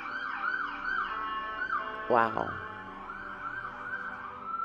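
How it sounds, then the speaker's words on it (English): Wailing emergency sirens rise and fall repeatedly across a busy New York City street, with a brief honk or horn blast in the middle and a short voice exclaiming. "you hear the sirens?"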